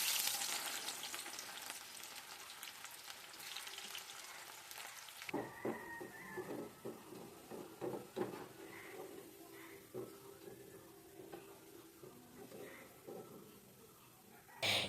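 Half a cup of chopped garlic sizzles steadily in hot oil as a meat balachao relish is fried, with scattered clinks and scrapes of stirring throughout.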